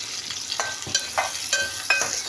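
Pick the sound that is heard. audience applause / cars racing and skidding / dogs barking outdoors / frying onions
frying onions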